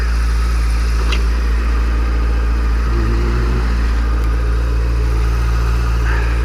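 A motorcycle engine idles steadily nearby in winter with a low, constant rumble, no voices, just the even running drone throughout.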